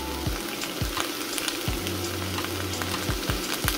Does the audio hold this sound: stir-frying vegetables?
yes